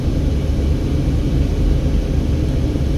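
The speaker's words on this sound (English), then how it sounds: "there's a tourism helicopter up there in the sky" A steady loud low rumble of an aircraft, heard as a tourism helicopter passing overhead near Hoover Dam, continuous with no voices.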